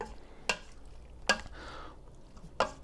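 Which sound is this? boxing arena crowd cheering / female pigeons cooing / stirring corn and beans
stirring corn and beans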